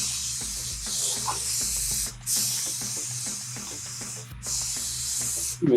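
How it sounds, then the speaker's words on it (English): Aerosol can of spray glue hissing in long continuous bursts while coating a vehicle headliner, close and loud, with brief pauses between sprays and no talking. "And spray glue."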